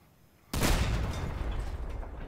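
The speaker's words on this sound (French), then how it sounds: "C'est quoi ces canons de fou furieux?" A sudden loud boom of cannon fire in the video game Crossout erupts after a brief quiet moment, followed by a sustained rumbling roar of continued blasts.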